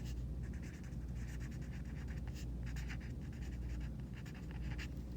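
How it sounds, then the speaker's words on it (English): A pen or pencil scratches steadily across a paper worksheet as a name is written, close and quiet, with short strokes and brief pauses. "I'll write my name, you write yours."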